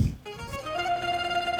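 A mobile phone rings loudly and close by, a steady electronic ringtone with sustained tonal notes that continue without pause. No talking over it.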